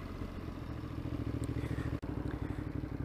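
Ducati Monster 950 V-twin motorcycle engine while riding on the road, a steady pulsing throb of rapid firing beats, close and continuous, with one brief dropout near the end.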